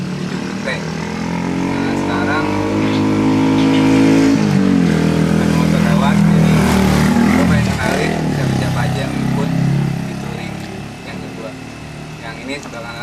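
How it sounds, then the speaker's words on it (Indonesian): A touring motorcycle passes close by on a road in Ciater, its engine note rising into a loud revving peak midway and then fading off, with people talking over it. "Nah sekarang ada motor lewat,"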